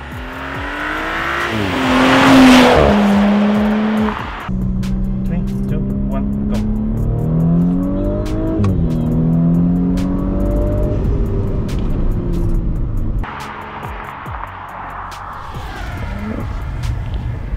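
A tuned Audi B9 S4 with Unitronic Stage 1+ software and a modified exhaust accelerates past, its loud engine note climbing and dropping through several gear changes and downshifts. Exhaust crackles follow, and people talk over it.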